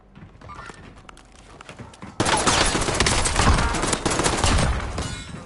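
Dense rapid gunfire in Call of Duty Warzone, set in Verdansk, bursts in loud after a quieter stretch of distant scattered shots and keeps rattling continuously as a heavy fusillade.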